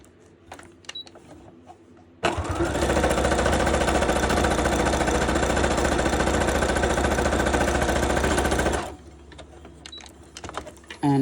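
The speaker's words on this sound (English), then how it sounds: "so we need to sew this side" A sewing machine stitches a board seam in one loud, continuous mechanical run of about six and a half seconds, with quieter room sounds before and after.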